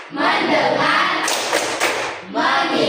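A group of people clapping together in the tepuk fokus clapping game during an ice-breaking session, with loud, dense claps and a brief pause before the clapping resumes.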